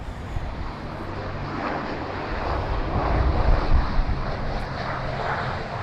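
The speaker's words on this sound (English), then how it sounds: "You could see definitely trying their hardest to get that aircraft down despite the winds" An airliner landing hard on its nose in strong wind at London Heathrow, a steady roar of jet engines mixed with heavy wind buffeting the microphone, swelling slightly toward the middle and staying continuous throughout.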